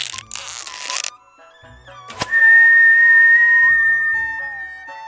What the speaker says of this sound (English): fitted a whistling arrow,